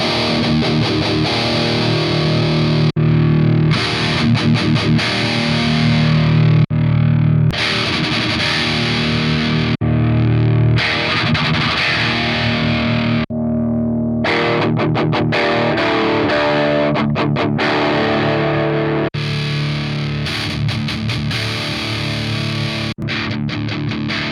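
Distorted electric guitar playing through a Tank-G multi-effects pedal's changing amp models and effects tones, chords and riffs with brief pauses, loud and close, no voices.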